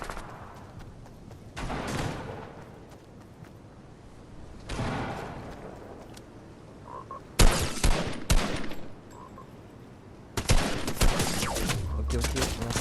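Bursts of gunfire in the Fortnite video game, Chapter 2 Season 8, crack out in several clusters, some sharp and loud, with quieter gaps of ambient game sound between them.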